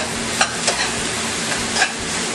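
Thai pad see ew noodles with Maggi and oyster sauces stir-fried in a hot pan: a steady, close, loud sizzle with a few scraping stirs of the spatula and no talking.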